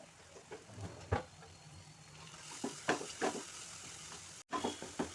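Ginger-garlic paste with ground coriander, cumin and fenugreek sizzles quietly in hot oil for a fish curry, with a soft steady hiss broken by several sharper stirring scrapes and clicks, alone without voices.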